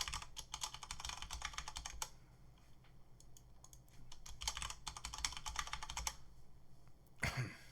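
Close computer keyboard typing as login details are entered, two dense bursts of rapid keystrokes separated by a quieter pause, then a brief thump at the end; no voices.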